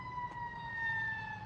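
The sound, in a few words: fire truck siren passing in the city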